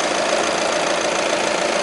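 A steady, clattery diesel idle from an Audi A3 2.0 TDI hums continuously at close range, with a faint knocking rhythm and no talking.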